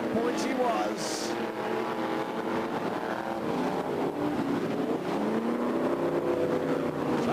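Stock cars at the 1989 HB stock car championship race past on the track, the rest of the field coming through after the checkered flag. Steady loud engine roar with rising and falling tones as cars sweep by, with a voice talking over it.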